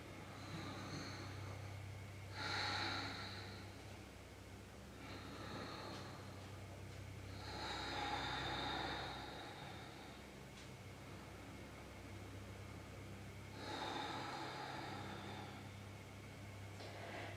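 Slow, deep breathing held in a yoga forward bend: several long airy inhales and exhales, each swelling and fading over a few seconds, faint and close against a quiet background hum with no talking.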